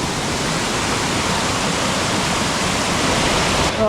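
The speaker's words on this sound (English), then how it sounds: "so here's on top of that first waterfall" A waterfall on Currawang Creek in Barrington Tops National Park, New South Wales, roars loud and steady, a constant broad rush of falling water heard up close with no voices.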